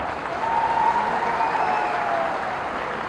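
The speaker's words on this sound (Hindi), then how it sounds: "अरे तालियों की गड़गड़ाहट" A large crowd at Jyotiraditya Scindia's outdoor political rally claps together in a dense, continuous roar of applause, loud and sustained, with a faint high whine running through it.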